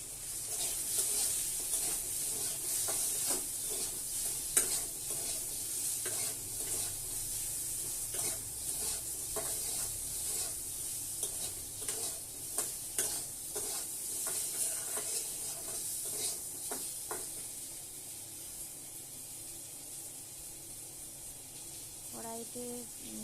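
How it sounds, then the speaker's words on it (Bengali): Chopped vegetables fry in a kadai with a faint, steady sizzle and intermittent clicks of stirring, growing quieter toward the end. "কড়াইতে তো আনাজটা তুলে দিয়েছি"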